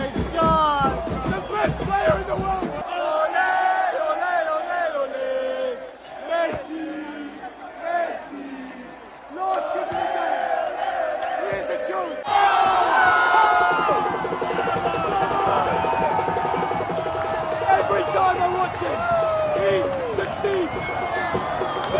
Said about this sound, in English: crowd around Messi. They know what he's done